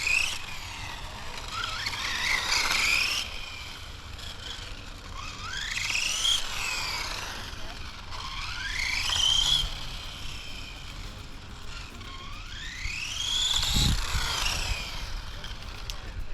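Electric Tamiya F104 RC car wearing a 3D-printed Ferrari F92A body on a test run, its high motor whine rising and falling in repeated sweeps as it speeds past, with steady background noise throughout.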